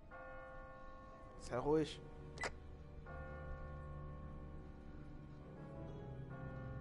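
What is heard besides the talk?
church bell ringing from bell tower in video game The Walking Dead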